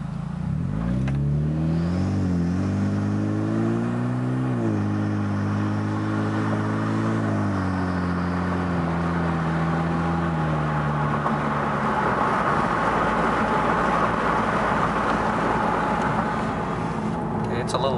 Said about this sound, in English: Gonna do a moderate acceleration